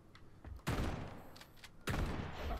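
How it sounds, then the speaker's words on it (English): Two heavy shotgun blasts from the video game Atomic Heart, each a loud, booming burst with a sustained rumbling tail, spaced just over a second apart and preceded by fainter clicks. "I guess I'll use the shotgun."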